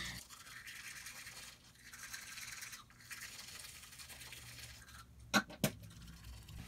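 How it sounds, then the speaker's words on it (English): A toothbrush scrubs teeth at close range in a quiet bathroom, a steady soft bristly brushing that rises and dips, then ends with two sharp clicks or taps near the end. "After that, I go ahead and just brush my teeth"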